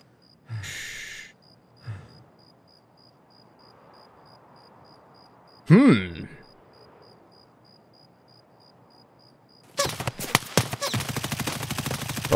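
Gunfire in the Escape from Tarkov video game: a sharp near shot cracks once mid-clip, then a dense rapid volley of automatic fire erupts loudly at the end, after quiet stretches with faint breath-like noises.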